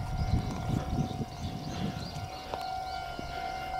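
A Kintetsu railway train rumbles past a grassy level crossing at the foot of Mount Nijō, heard faintly at a distance with a low rolling rumble and a steady tone over outdoor ambience.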